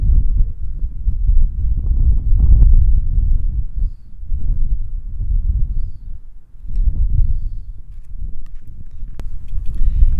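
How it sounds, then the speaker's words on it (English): Strong Texas wind at a lakeside campground roars and buffets the microphone in a loud, continuous low rumble that surges and dips across about ten seconds, with no talking. "it's way too windy to try to film anything out here"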